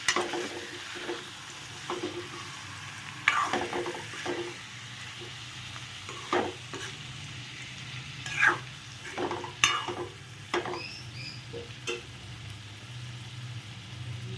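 Eggs frying in a pan for a homestyle egg curry, with a steady low sizzle and irregular scrapes and knocks of a spatula stirring through them; no one speaks.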